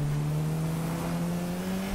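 Inside GTA 5, a car engine strains uphill with a sustained, slowly rising drone held at high revs, loud and steady throughout.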